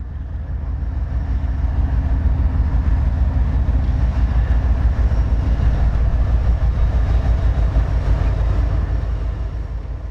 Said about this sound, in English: We got a train coming through making all kinds of noise.